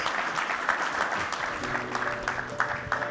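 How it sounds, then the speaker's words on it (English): Applause from a forum audience for a keynote speaker, a dense steady clatter of many hands throughout, with a voice faintly speaking over it near the end. "Let's get another round of applause for our keynote speaker and his inquisitor"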